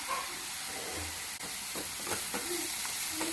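Moth beans and tomato sauté in a pan with a steady, even sizzle and hiss, broken by a few soft stirring scrapes; no talking.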